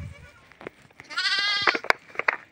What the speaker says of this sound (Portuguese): Só se vê cabrito berrar com fome